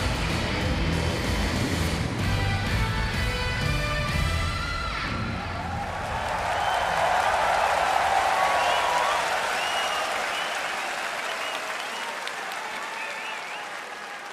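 A home crowd applauds and cheers loudly at a boxing match between Naoya Inoue and Nonito Donaire in Japan, a sustained roar of clapping that swells midway and stays strong for the whole stretch.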